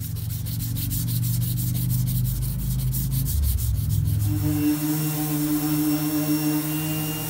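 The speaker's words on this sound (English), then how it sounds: "I'm just pretty much sanding this side of the truck" Hand sanding scrubs a truck door of a Ford Raptor around its emblem, close rhythmic rubbing strokes that shift into a steadier grinding hum, with no talking.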